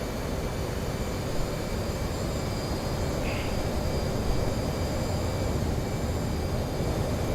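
F/A-18 jet taking off from a carrier in the DCS World flight simulator, a steady, loud broadband engine roar with a constant high whine, running evenly throughout without talk.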